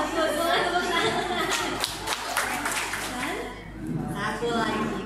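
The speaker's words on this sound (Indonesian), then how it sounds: "Boleh tepuk tangan." Group of older adults clapping hands together during a simple exercise session, a steady burst of applause-like clapping with voices chattering over it throughout.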